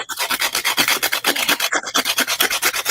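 Close, steady back-and-forth rasping of sandpaper on a cosplay piece, quick even strokes repeating about seven times a second with a brief pause midway.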